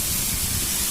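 Filtered jaggery syrup is poured into a hot pan over a medium flame while a ragi sweet is being made. It gives a short, loud, even sizzling hiss that fills the moment, with no voices.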